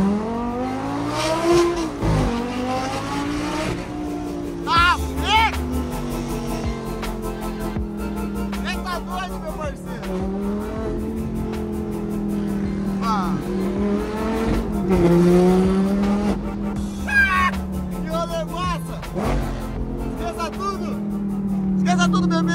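Lamborghini sports car accelerating hard, engine roaring and revving through rising and falling pitch sweeps with some tire noise, loud and close, while people talk over it.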